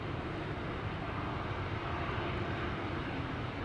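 An airliner departing Amsterdam Schiphol Airport gives a steady broadband jet roar, dense and unbroken throughout, heard from some distance with no voices.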